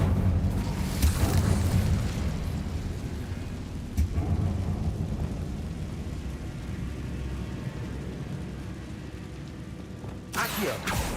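Incendio fire spell cast in Hogwarts Legacy, a loud whooshing roar of flame with deep booming rumble and a sharp crack, fading to a low rumble before a bright burst of noise at the end.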